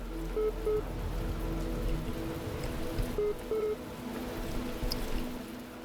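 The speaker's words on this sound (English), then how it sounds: "It's raining." Steady rain in the video game The Talos Principle, an even wash of falling water with faint tonal game sounds drifting over it, no voices.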